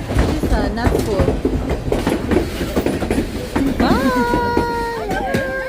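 The White Pass railroad train in Skagway rumbles and clatters loudly up close, with rhythmic wheel clicks and rising, sustained wheel squeals toward the end, while voices talk underneath.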